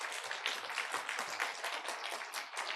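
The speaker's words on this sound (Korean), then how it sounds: "여러분 박수로 위로해 주시고 격려해 주시고 도와주시기 바랍니다" A church congregation claps together in sustained, dense applause, a steady wash of many hands with no pauses, filling the whole stretch without any speech over it.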